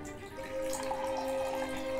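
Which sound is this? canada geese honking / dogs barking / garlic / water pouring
water pouring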